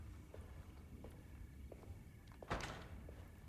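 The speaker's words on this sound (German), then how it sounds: "Okay, die Tür ist zu." In the video game Alone in the Dark (2024), a locked door is tried: a few soft footstep-like taps, then a single sharp rattling thunk of the handle against the latch, quiet and close, with no talk.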